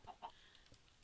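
Video game chickens on a multiplayer survival server cluck faintly, two quick soft clucks near the start and a thinner one later, alone with no talk.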